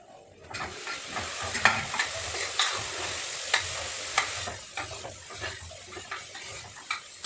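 Sprouted legumes fry in oil in a home kitchen pan, giving a steady close sizzle with repeated scraping stir strokes and light utensil clinks throughout.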